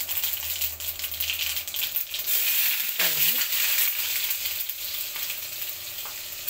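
Tempering spices, mustard seeds and cumin, sizzle in hot oil with a steady, fairly quiet hiss and faint crackle, broken by a brief tonal clink partway through.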